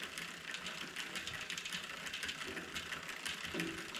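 A rapid, steady ticking from a MicroShift Advent X bicycle drivetrain in one gear, light mechanical clicks repeating evenly over a quiet whirring hum, close by with no voices.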